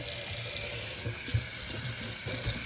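A towel is rinsed under a running sink tap, the water pouring steadily and loudly with soft splashing and sloshing as the cloth is moved in the stream.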